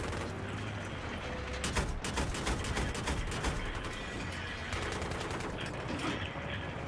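Rapid bursts of gunfire in a video game rattle away repeatedly and loudly, clustered volleys broken by short pauses, over a busy battle din.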